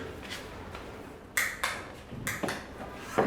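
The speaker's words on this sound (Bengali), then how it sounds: "তোমার কলিং বেল।" An indoor doorbell rings twice, two clear chime tones about a second apart over quiet room tone.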